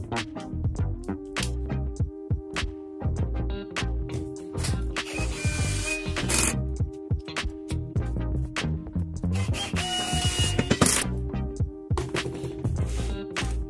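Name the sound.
screwing a frame onto pallet wood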